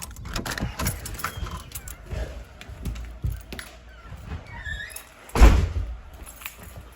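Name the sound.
door being unlocked and opened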